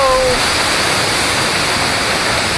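Loud, continuous roar of a waterfall in the Philippines, heard up close as dense steady rushing water, with a brief voice near the start.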